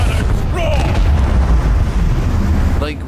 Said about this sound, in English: I want to hear the macro cannons roar!